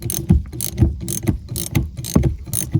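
An adjustable wrench loosens a 5/8 nut on the upper mount of a Nissan Juke rear shock, giving a run of close, loud metallic ratcheting clicks and scrapes in short repeated bursts, with no voices.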